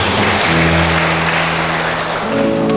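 A church congregation applauds at a worship service in Huta Galuh, a dense steady wash of clapping lasting throughout, with a low sustained keyboard or music tone running beneath it.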